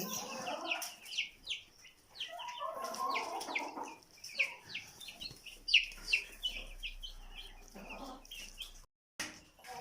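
Chickens clucking in a yard in Slovenia, a busy run of short repeated clucks and calls at moderate distance, continuing throughout with brief gaps.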